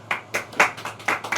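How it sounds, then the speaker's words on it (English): Clapping from a small group: sparse, individual hand claps landing in separate uneven bursts, close and fairly sharp, with no one talking. "Round of applause."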